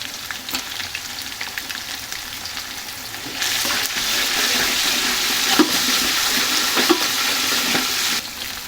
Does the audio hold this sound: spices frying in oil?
yes